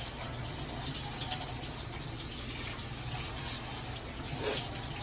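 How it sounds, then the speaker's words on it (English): Water from a running tap pours steadily over wrists and hands during handwashing for hand hygiene, a continuous close splashing rush with no talk. "I'm going to get my wrists and hands wet, making sure that I'm getting 3 to 4 inches above my wrist"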